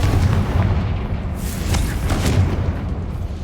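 A Confringo fire blast spell in Hogwarts Legacy goes off inside a cavern, heard as a loud, sustained booming roar with a few sharp crackling bursts layered over a deep rumbling bed.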